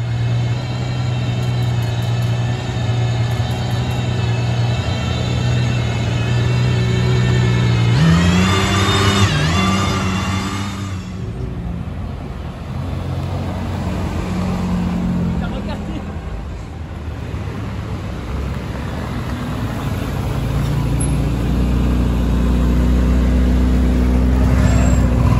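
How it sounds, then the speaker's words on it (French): Mercedes-AMG GT Black Series race car with a large rear wing and N24 plate, its engine revving loudly and nearby in a busy Monaco street scene, surges rising around the middle amid traffic and crowd noise. "Elle est magnifique, cette GT Black Series, elle est dingue."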